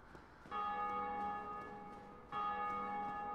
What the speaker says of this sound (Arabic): آه جرس النصر هذا